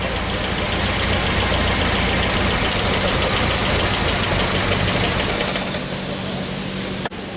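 Original engine of a 1976 Renault 17 TS Cabriolet running steadily at idle, a loud, even mechanical drone heard close up with no voices, fading slightly and ending in a brief click.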